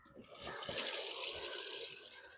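A short, soft splash of water poured onto freshly planted potato soil, gurgling briefly and fading.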